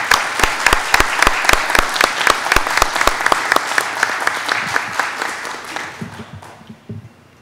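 Audience applause at a citizen security committee meeting, loud and sustained with sharp, regular claps standing out near the front, then fading away over the last seconds as a voice begins.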